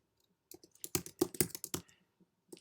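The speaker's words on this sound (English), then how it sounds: "at first we need to type the Jupyter notebook" A short burst of computer keyboard typing, a quick run of close, crisp key clicks followed by a pause and one final tap, with no voices.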